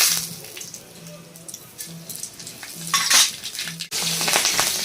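Bay leaf, dried chilli and nigella seeds sputter in hot oil for a yam and hilsa curry, a close crackling sizzle broken by utensil clinks and a sharp burst of spitting near the end.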